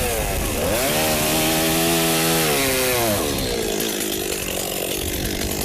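A chainsaw cuts firewood with a loud, steady high-pitched engine whine that rises and falls in pitch as it bites, close and alone.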